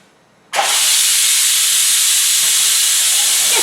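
An Instant Pot cooking Hungarian goulash vents its pressure: after a brief quiet moment, a loud, sudden burst of steam hisses and keeps up as a steady, forceful rush until the end.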